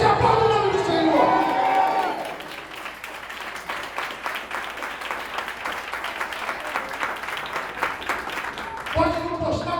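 A church congregation applauds steadily for several seconds, dense clapping with some cheering, bracketed by a preacher speaking before and after.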